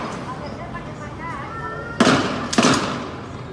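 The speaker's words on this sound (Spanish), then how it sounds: "se escuchaban detonaciones de bombas" Bomb detonations during violent street clashes in a strike in Salcedo: two loud, sharp bursts in quick succession rise over a noisy outdoor background.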